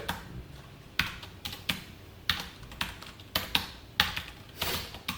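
Keys clack on a computer keyboard at a JavaScript coding lesson, with irregular bursts of quick strokes and short pauses between them, close and moderately loud, with no talk.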